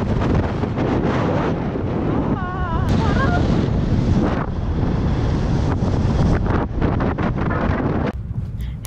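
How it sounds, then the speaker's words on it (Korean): Ocean waves break on the shore along a scenic coastal walking path near Melbourne, Australia, a steady loud surf wash heavily buffeted by wind noise on the microphone throughout. "부서지는 파도가 나옵니다"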